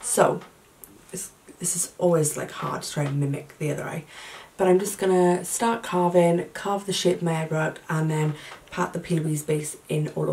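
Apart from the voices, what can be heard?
No everyday noise stands out behind the speech.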